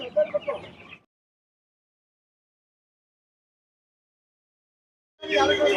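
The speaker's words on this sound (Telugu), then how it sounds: "ఇది గిన్నె కోడి అంట ఎలా ఉందో చూడండి" Guinea fowl calling at a market, a short burst of harsh clucking cries up close at the start, then silence, then another dense loud burst of calls at the end.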